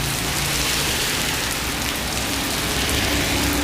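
Heavy rain pours down in a dense, even hiss on surfaces, loud and continuous for the whole stretch with no voices.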